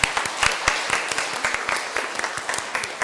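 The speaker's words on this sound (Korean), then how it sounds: "다시 한번 축하의 박수 한번 드리겠습니다" A church congregation at Sunday worship claps in celebration, with sharp, distinct hand claps rising over a softer bed of applause in an uneven rhythm for a few seconds.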